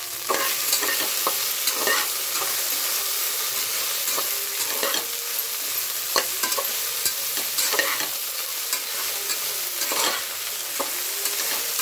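Okra pieces frying in a pan as turmeric is stirred through them, a continuous bright sizzle broken by repeated scraping strokes of a spoon, close and fairly loud with no talking.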